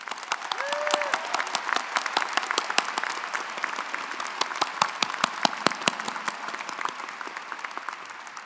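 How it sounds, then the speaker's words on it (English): Sustained round of applause from a commencement audience for graduating psychology students, dense and steady for the full stretch, with sharp individual claps standing out near and far and no voices. "Now please join me in congratulating these students with a round of applause."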